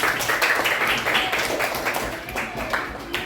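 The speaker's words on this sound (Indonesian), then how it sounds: "Ya, berikan tepuk tangan ya pada kelompok 2 ya" A class applauds a student group before its performance, with a burst of mixed clapping and tapping in a classroom as voices chatter over it.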